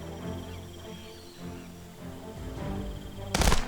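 Gunfire in the video game Jagged Alliance, a few scattered shots over a quiet ambient background with insect-like chirping, ending in one loud, sharp burst.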